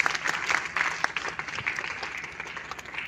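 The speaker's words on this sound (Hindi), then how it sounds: "इनके लिए भी तालियां।" Moderate applause for karate students honored for winning medals at a school ceremony, a steady patter of clapping from a gathered audience, somewhat distant.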